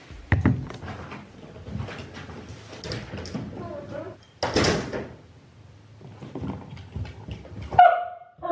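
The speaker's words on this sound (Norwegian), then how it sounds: "jeg hørte han bjeffe litt grann" A dog left alone at home gives a few short barks and whimpers. Door or drawer knocks and thuds can be heard between them, and a person talks over parts of it.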